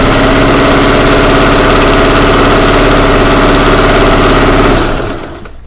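A sewing machine runs steadily while stitching quilt blocks, a loud, continuous motor hum with fast mechanical stitching that holds for nearly five seconds before stopping abruptly.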